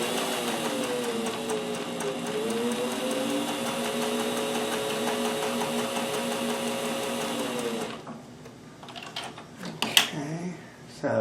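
A sewing machine stitches decorative stitches on a shirt, a fast, steady whirring hum running for about eight seconds before stopping, followed by a few quiet clicks and handling noises.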